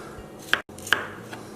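Knife slicing breakfast radishes thinly on a cutting board, two sharp close chops about half a second apart, followed by a faint third tap.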